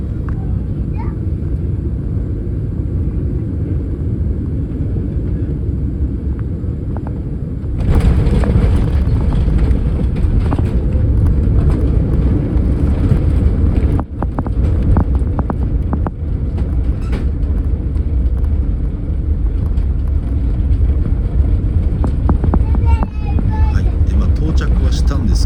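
Loud, low cabin rumble fills an Etihad Airways business-class flight from Singapore landing in Abu Dhabi at night. The rumble steps up sharply partway through and stays heavy and shaky to the end.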